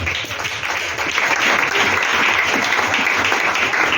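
Church service audience applauding Jesus: steady, dense crowd clapping sustained throughout, fairly loud and close, with no talk over it.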